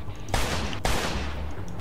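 Automatic weapon fire in Mafia II: two loud, close bursts of rapid shots, each a sharp crack followed by a rattling tail, separated by a short gap.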